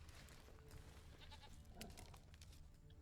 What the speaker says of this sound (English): I can hear a goat.